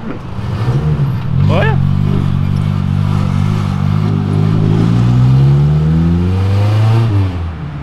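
A Ferrari engine revs hard and accelerates close by, its loud pitch rising and falling across the whole stretch, with people chattering nearby.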